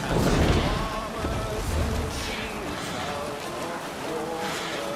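A Viking sailing ship rushes over waves in Assassin's Creed Valhalla, a loud broad wash of water and wind that roars steadily throughout while voices shout over it.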